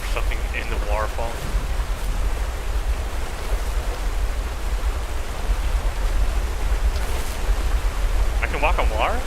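A waterfall in The First Tree rushes as a steady, loud wash of noise throughout, with a few brief game sounds on top.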